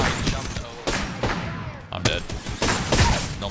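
Apex Legends gunfire comes in repeated loud bursts of rapid shots, separated by short pauses, close and punchy throughout, with some game noise between bursts.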